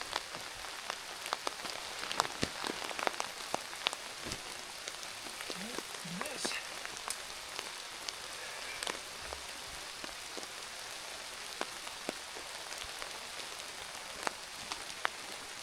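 Steady rain patters on a tent and tarp at a backcountry campsite at Provoking Lake in Algonquin, a dense close hiss of drops with scattered sharper taps, continuous throughout.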